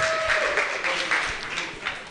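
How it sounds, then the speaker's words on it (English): Brief applause rises from an audience at a data science conference as speakers are invited onto the stage, dense and continuous over two seconds with faint tonal feedback beneath. "come on, give them a round of applause"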